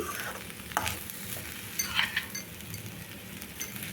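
Restaurant-style egg fried rice stirred in a pan with coriander leaves added, soft sizzling under a few sharp scrapes and clinks of the spatula against the pan.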